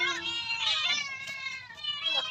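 Cats meow repeatedly at a cat impounding, several high, wavering cries overlapping close by, mixed with people talking.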